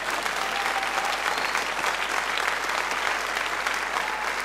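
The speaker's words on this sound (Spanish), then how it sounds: "Y si aplauda, vaya a aplaudir" A church congregation applauds together at a worship celebration, a dense, steady wash of many hands clapping at once, sustained evenly for several seconds without breaks or speech over it.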